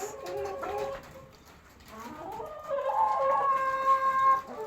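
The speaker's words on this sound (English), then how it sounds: "These are my chickens." Chickens cluck and call inside a chicken coop on a poultry farm, a fairly close, busy mix of several birds with rising squawks toward the end.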